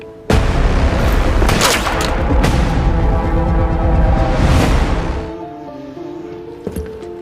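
Booming sniper gunfire in an animated story, a heavy blast opening a sustained, loud rumbling barrage that swells again before fading out, with a sharp crack near the end.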